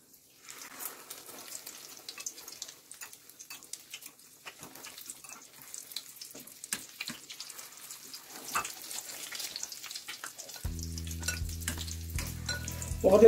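Eggplant rolls stuffed with turkey mortadella and cheese, dipped in egg, fry in hot oil in a steady, quiet crackling sizzle with scattered small pops that builds slightly toward the end.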